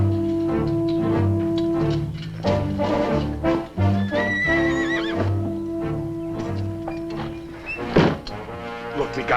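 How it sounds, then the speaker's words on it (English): A horse whinnies loudly over a busy orchestral score, with hoof clops and a dull thunk mixed in. "a freshly saddled horse"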